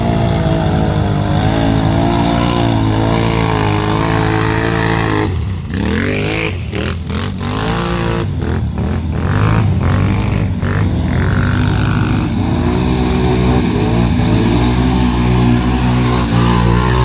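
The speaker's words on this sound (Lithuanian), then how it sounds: "Nepers šitą motociklą." A motorcycle at a 4x4 off-road event revs hard, its loud engine droning and rising and falling in pitch for the whole stretch, with several quick throttle blips midway and no voices.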